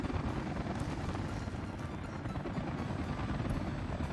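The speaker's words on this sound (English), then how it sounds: "Look, get out of the way, helicopter." A helicopter in the Workers & Resources: Soviet Republic city-building game makes a steady, dense rotor whir and engine drone that holds throughout without pause.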